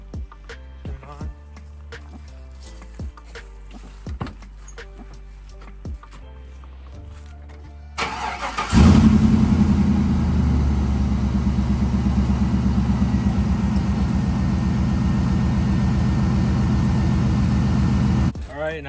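Chevrolet Silverado truck, NBS generation, with fresh coolant added during a heater repair, cranks over and starts, then settles into a loud, steady idle rumble after a few seconds of quieter handling noises.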